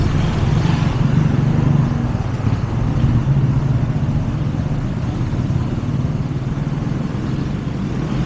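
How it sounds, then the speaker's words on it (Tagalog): Riding inside a minibus, with a steady mid-pitched engine drone and road rumble that stays fairly loud and continuous, with no voices over it. "Minibus ito."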